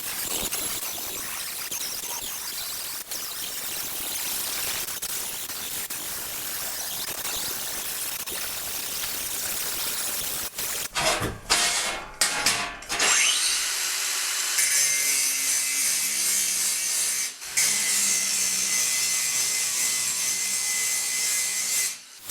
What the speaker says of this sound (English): we've done some flap disc work, we've done some grinding work